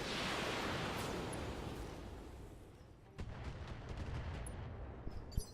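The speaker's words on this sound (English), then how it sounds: "All right, let's fire." Mech weapons firing in Roguetech, a dense roaring barrage fading down, then a fresh round of sharp cracks and booms, with a couple of hard close impacts near the end.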